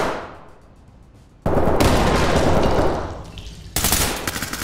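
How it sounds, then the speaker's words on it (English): A grenade going off in the tactical shooter Ready Or Not: a sudden loud burst of blast noise that holds for a couple of seconds, then a second loud burst follows, dense and close with no talk over it. "Oh, that was a nice grenade."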